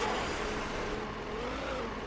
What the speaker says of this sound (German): Fahre den Gabelstapler